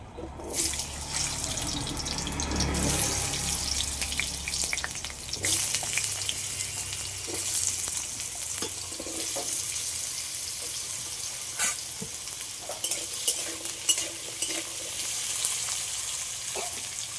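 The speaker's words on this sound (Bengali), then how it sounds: "এবার আলুগুলো ভেজে নেব" Potato pieces fry in mustard oil in a kadai, a continuous close sizzle and crackle with occasional stirring scrapes and splashy bursts running throughout, no voices.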